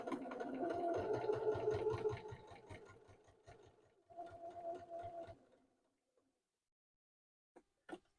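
A sewing machine stitches a wallet in two runs of rapid, even needle strokes, the second shorter, then falls silent apart from a few faint clicks.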